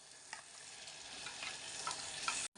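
Chicken curry stirred in a pan over a gas flame, giving a soft continuous sizzle with light scraping strokes from the spoon, fairly quiet throughout.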